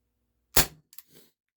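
A single sharp crack from a Walther P38 4.5mm BB pistol powered by a CO2 cartridge, loud and close, followed by a short faint rattle as it settles, with no talking.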